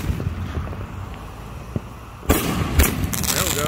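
Fourth of July consumer fireworks launch straight up outdoors. A couple of sharp bursts crack over steady wind rumble on the microphone, and the launch sounds close.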